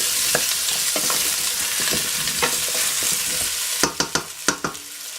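Vegetables for potato ratatouille (ajapsandal) sizzle steadily in a pan while a spoon scrapes and stirs them, with sparse strokes first and then a quick cluster of sharper scrapes near the end.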